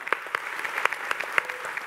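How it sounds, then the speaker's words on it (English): A small audience at the Frontier Expo 2017 Planet Coaster content reveal claps briefly; individual sharp hand claps come scattered and uneven rather than as a dense roar, fairly faint and with no one talking. "So I'd give them a little clap in."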